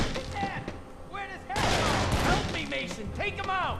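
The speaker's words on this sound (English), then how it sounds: "That's how you fire an Uzi, with one hand sideways." Rapid bursts of Uzi fire from a one-handed, sideways-held submachine gun in the game Urban Chaos: Riot Response, loud and dense, strongest in the second half, with game voices and effects around it.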